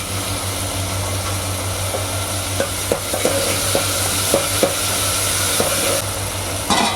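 Curry leaves sizzle in hot oil while a spoon stirs an okra, coconut-milk and tamarind kuzhambu, a steady hiss under a low hum with a series of sharp scraping clicks from the stirring.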